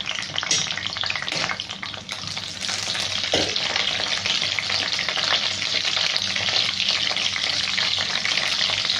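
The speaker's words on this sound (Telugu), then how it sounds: "బటర్ మెల్ట్ అయింది ఇప్పుడు బిర్యానీ ఆకు మూడు ఒక చెక్క కొన్ని లవంగాలు" Bay leaves, a cinnamon stick and cloves fry in melted butter, giving a steady close sizzle with light stirring scrapes and a brief clatter early on.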